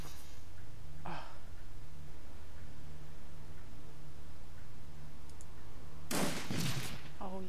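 A single short burst of gunfire from the video game Dragonfall cracks out loud near the end, after a long stretch of low steady hum and faint background game noise.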